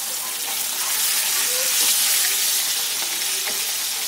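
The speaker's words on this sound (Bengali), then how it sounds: "মাছগুলোকে বাদামি করে ভেজে নেব।" Rohu fish pieces fry in hot oil for a Bengali fish curry, a loud dense hiss of sizzling that stays constant and close without pause.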